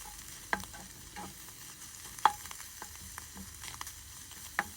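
Wild mushrooms sear quietly in a hot pan under a soft, even sizzle. A spatula stirs them with occasional sharp clicks and scrapes, and no one talks.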